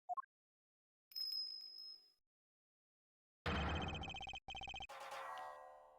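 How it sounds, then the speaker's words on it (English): A bell rings in the video game Ace Attorney Investigations: a high, clear ringing tone that sustains for about a second after a brief chime, followed by louder bursts of game sound effects. "Oh, that sound. Is that a bell?"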